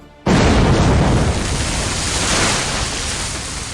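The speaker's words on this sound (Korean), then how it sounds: "순간 파도가 몰아쳤다." A sudden crashing wave in a visual novel game bursts in after a brief quiet moment, then rolls on as a loud, dense wash of surf that slowly eases, with no voices over it.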